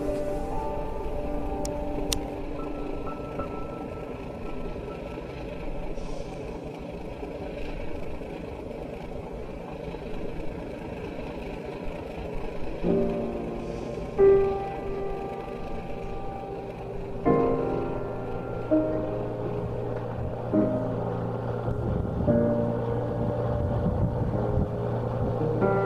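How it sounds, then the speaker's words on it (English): Low engine drone and steady mechanical hum aboard a vintage wooden ferry boat heading to Anderson Island, with tonal shifts as the engine changes speed and faint clatter, continuous and close with no talking. "this was the first time I had ridden on a vintage wooden ferry boat"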